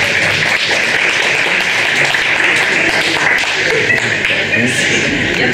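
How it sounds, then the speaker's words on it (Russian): Dense, steady applause from an audience fills the room, a continuous wash of clapping without pause and no voices standing out. "аплодисментами"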